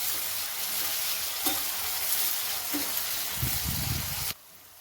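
Tomatoes fry and sizzle in a pan for biryani, a close hissing sizzle with a few stirring scrapes, before the sound cuts off abruptly near the end.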